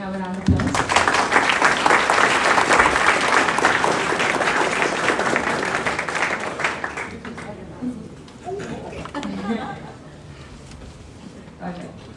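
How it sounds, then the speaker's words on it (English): Applause rises from an audience at a space technology conference as a guest is welcomed to the dais, loud at first and then fading, with voices coming through as it dies down. "Can we have a round of applause?"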